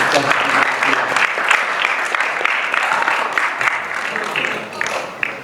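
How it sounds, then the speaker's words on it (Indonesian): Audience applause inside a mosque, steady dense clapping from a sizable crowd that holds throughout, loud and close, with a faint voice underneath. "Kita beri aplaus untuk"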